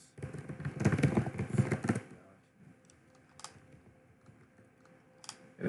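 Fast, close typing clatters on a computer keyboard for about two seconds during a Final Fantasy gaming session, followed by a few scattered key clicks over quiet background.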